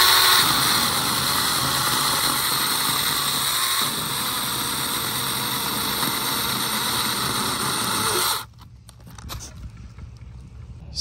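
A Saker mini electric chainsaw whines steadily at a high pitch for several seconds, then abruptly shuts off, leaving faint handling noises.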